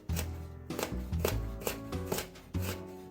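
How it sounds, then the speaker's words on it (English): Rapid knife strokes julienning carrots into thin strips on a cutting board, close and crisp, in quick bursts of chopping with brief pauses between runs. "Now I am julienning carrots. You're cutting them basically into strips."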